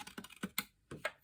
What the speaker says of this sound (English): Just more or less running my scissors along because I can't see where I'm